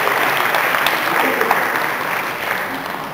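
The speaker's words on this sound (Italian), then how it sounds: "Nicolò e Rachele si meriterebbero anche un applauso, di coraggio perché stanno un po' timidi, eh?" Applause from a group fills the whole moment, steady and moderately loud, fading slightly toward the end.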